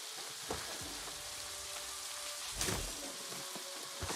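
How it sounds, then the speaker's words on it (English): Steady rain falls in the fantasy game New World, a soft continuous hiss with scattered patters and faint drops, quiet and without voices. "And I'm in rain."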